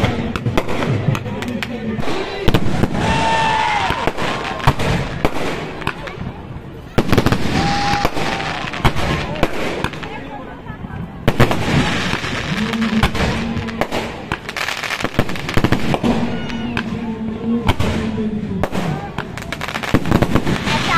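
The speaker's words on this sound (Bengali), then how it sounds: "এখন বাবুঘাটে এই আতশবাজি প্রদর্শনী" A Dev Dipawali fireworks display at Babughat ghat in Kolkata fills the air with a dense run of pops, crackles and booming thuds, the odd rising whistle, and a crowd murmuring and talking underneath.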